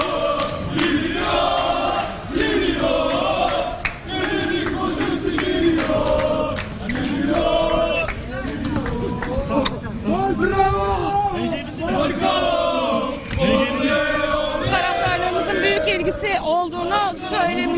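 Football fans chant and cheer in a dense, loud crowd at Atatürk Airport in Istanbul, welcoming a newly transferred player; rhythmic group chanting fills the whole stretch with steady crowd noise.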